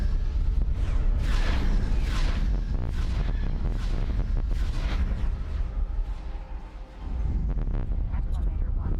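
Torpedo impacts and heavy booming explosions in the Star Wars Interworlds space battle game, dense rumbling blasts layered continuously with a brief dip near the end, with a voice speaking over them.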